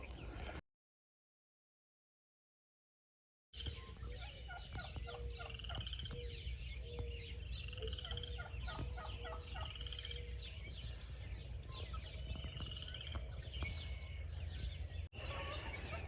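A wild turkey hen calls and gobbles repeatedly in a swamp, drawn toward hunting decoys, with rhythmic bursts of clucks and gobbles over steady outdoor background noise after a short silent gap.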